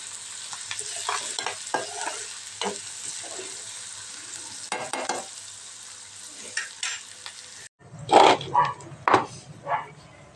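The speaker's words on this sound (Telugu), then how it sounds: "కరివేపాకు ఇప్పుడు బాగా ఫ్రై అయ్యేదాకా ఫ్రై చేసుకోండి" Curry leaves frying in hot oil in a pan, stirred with a spatula: a loud close crackling sizzle with repeated scraping strokes, rising into sharper bursts of spattering toward the end, with a faint voice in the background.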